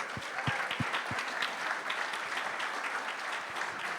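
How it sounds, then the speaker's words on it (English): Staff at a company all-hands meeting give a round of applause: fairly soft, sustained clapping with a few sharper, closer claps standing out near the start. "You deserve all a big round of applause for working so hard."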